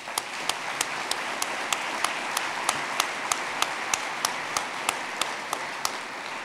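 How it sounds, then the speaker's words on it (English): Steady applause from a dinner crowd at an Eagle Scout class banquet, continuous and even across the whole stretch, with a few sharper individual claps standing out at a regular pace. "Let's give them a round of applause."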